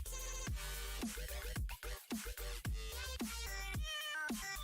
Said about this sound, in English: This cat song that's playing right now.